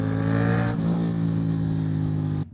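A Yamaha MT-07 motorcycle's engine hums steadily and loudly while riding between cars in traffic, its pitch dropping once as the throttle eases, then holding until it cuts off abruptly.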